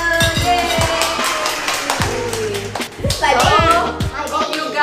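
A small household group, children among them, claps for a Philips air fryer with a scattered run of sharp hand claps, close and loud, mixed with excited kids' voices talking and cheering.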